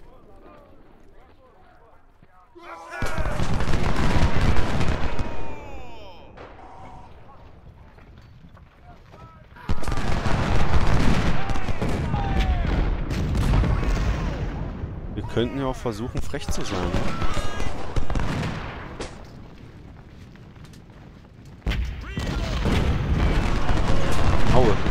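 Cannon and musket gunfire from a Civil War battle at Bull Run in the strategy game Ultimate General: Civil War, booming in loud bursts with galloping horses, under lively talk.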